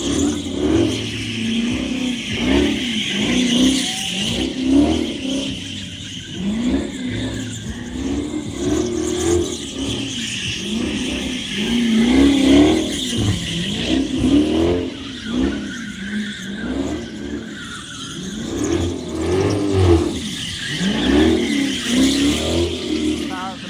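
A widebody Dodge Charger Hellcat engine revs hard and loudly at a legal pit event, with repeated surging roars and squealing tires that rise and fall continuously, while people talk in the background.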